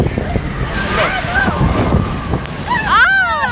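Dirty water sloshes and splashes around riders on a water attraction at Parc Astérix, mixed with broadband rushing noise and close, excited voices talking over it.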